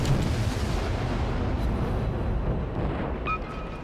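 Deep rumbling explosions from torpedo hits on a Russian destroyer in a naval combat game, a continuous loud boom and roar that slowly fades, with a brief tonal ping near the end.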